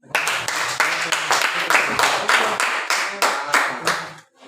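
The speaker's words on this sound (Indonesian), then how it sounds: "Ya, tepuk tangan dulu." A classroom of students claps in rhythmic bursts, about a dozen even beats of group hand-clapping, loud and close, stopping abruptly at the end.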